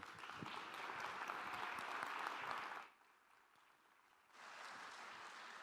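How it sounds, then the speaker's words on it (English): An audience at a University of Minnesota Morris morning session applauds the chancellor's welcome: even, moderately loud clapping that fades to near quiet halfway through, then returns at a slightly lower level. "Please, a big round of applause, Janet Trunk-Erickson."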